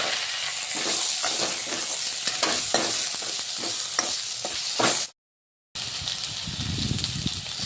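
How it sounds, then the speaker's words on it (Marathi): Tomato, garlic, ginger and garam masala fry in a pan with a steady sizzle, broken by rhythmic scraping stirs, then a brief total silence before the frying resumes. "लसूण काय आणि अद्रक गरम मसाले आणि हा टमाटो यातच भाजून घ्यायचा सगळं"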